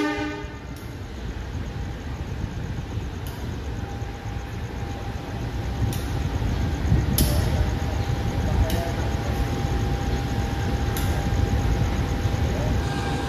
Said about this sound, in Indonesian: Ini ada lokomotif baru masuk